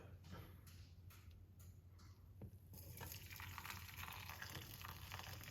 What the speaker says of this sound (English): So we're just pouring off it now.